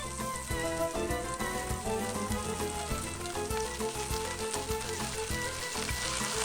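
Ark clams (Arca noae) fry in hot oil with a busy, popping sizzle like rain on a surface, steady and close throughout, accompanied by background music and no speech.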